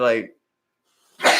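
A single sharp, close sneeze bursts out at the end, after a brief voice and a pause, during a live podcast-style talk show.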